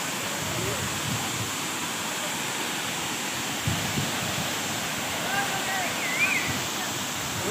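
The Lavapani waterfall in Lohardaga, Jharkhand rushes with a steady, broad roar of falling water that fills the scene from up close, with a few faint voices and knocks surfacing briefly.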